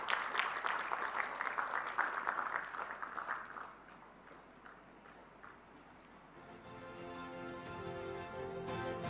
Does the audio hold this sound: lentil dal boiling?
no